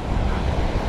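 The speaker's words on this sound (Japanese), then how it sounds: "この場所でこんな荒れてるの見たことないなっていうぐらいザバザバしてるのに" Rough, heavily churned surf crashes on a sandy beach under a strong, cold headwind, a brief dense roar of waves mixed with wind buffeting the microphone.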